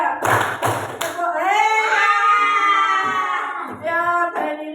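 A school class claps hands together in rhythm, a quick burst of double claps at the start, followed by children's voices chanting and talking in unison.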